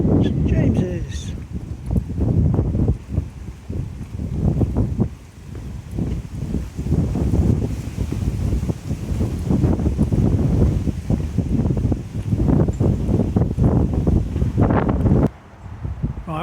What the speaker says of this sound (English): Right, well, it's getting a bit blowy,